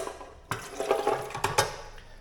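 Water is poured into an Anko bread maker in a short splashing burst with a few gurgling surges, close and fairly quiet, without talk.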